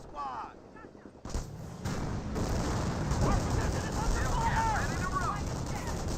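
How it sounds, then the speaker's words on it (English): Artillery barrage in the video game Company of Heroes, a dense rumbling roll of booms and blasts that swells and keeps going, with in-game voices over it. "Good artillery barrage there."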